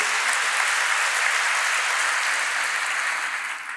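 A church congregation gives a loud, dense round of applause that holds steady throughout and fades slightly at the end, with no speech over it.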